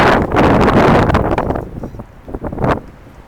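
Wind buffets the microphone outdoors in a loud, broad roar that eases after the first second and a half, leaving fainter rustling gusts that swell once more near the end.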